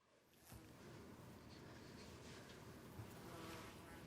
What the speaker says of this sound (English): As he enters the house, you can hear flies buzzing.